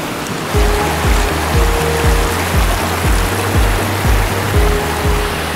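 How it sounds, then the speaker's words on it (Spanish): Strong water current rushing at the Parque La Llovizna waterfall in Venezuela, a loud, steady roar filling the whole clip with repeated low thumps and rumbles underneath, likely from wind or handling. "la fuerte corriente de agua, hoy vamos a verla en el Parque La Llovizna"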